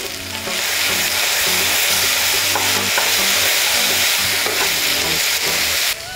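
Mixed vegetables for Bengali sukto, already cooked with ginger paste, fry in a pan as mustard paste goes in, giving a loud, continuous close-up sizzle with stirring scrapes and no talking.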